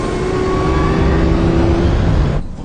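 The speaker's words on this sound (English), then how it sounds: "let's compare something like a car chase scene from a Batman movie." Loud car engine revving hard during a car chase in the film The Dark Knight, a steady roaring drone that holds near and close for over two seconds before dropping off abruptly at the end.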